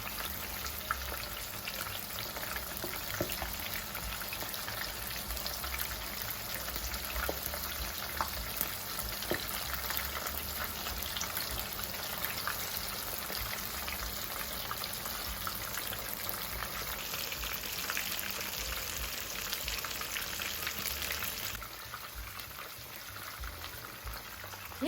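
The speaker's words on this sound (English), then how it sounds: "Flip them again and fry until golden brown." Pork fillet pieces wrapped in shiso deep-fry in hot oil with a steady, dense crackling sizzle that holds close and even throughout, easing slightly near the end.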